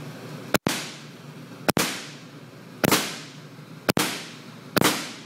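Angel A1 paintball marker fitted with its stock bolt fires five sharp, loud pops, spaced roughly a second apart, each with a brief ringing tail and no voices.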